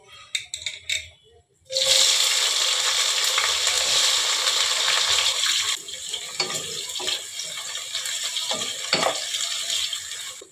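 Chopped onions dropping into hot oil with whole mace, cinnamon, green cardamom and cloves for chicken rezala, a sudden loud sizzle that holds steady and then eases under occasional stirring scrapes.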